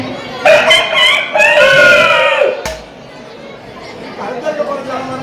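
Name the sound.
performer imitating a rooster crowing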